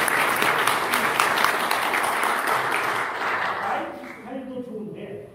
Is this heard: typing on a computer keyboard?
no